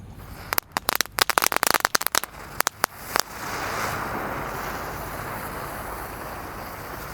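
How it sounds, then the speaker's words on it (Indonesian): Six small spinning ground firecrackers (gangsingan) are lit at once at night. A quick scatter of sharp crackling pops is followed by a steady hissing whoosh as they spin, heard close and moderately loud. "Selanjutnya di sini ada gangsingan yang ukuran kecil guys."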